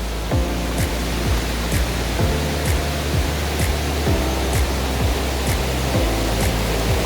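Magdagagdang Falls in Davao, with water running high after recent rain, pours in a steady, loud, broadband roar that fills the whole stretch without a break, while faint pitched tones repeat beneath the rush.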